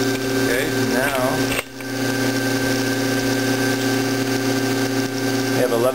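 A permanent magnet motor pedal-driven as a bicycle generator hums steadily with a strong mechanical whine near 2,000 RPM, loud and close, a brief dip partway through, with a voice speaking over it.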